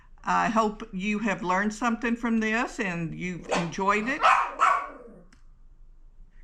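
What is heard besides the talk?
dog barking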